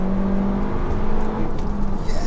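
Seat Leon Cupra 290, a front-wheel-drive hot hatch, pulling in third gear, its engine a steady, moderately loud drone with road and cabin noise. No one speaks.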